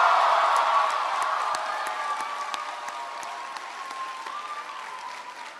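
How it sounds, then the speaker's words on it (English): Audience applause at a presidential campaign speech in Mount Vernon, Iowa: a loud, dense burst of clapping with some cheering that gradually tapers off while continuing steadily to the end. "can everybody please give a big round of applause to Rachel for that great introduction?"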